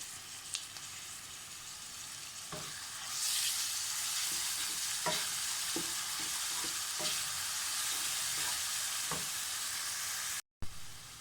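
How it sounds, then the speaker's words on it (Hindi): A steady sizzle of onions and ginger-garlic paste frying in hot oil, rising louder partway through, with occasional clinks of a utensil stirring the pan. "यहाँ पर प्याज को थोड़ा सा फ्राई करके उसमें अदरक लहसुन का पेस्ट डाल दें।"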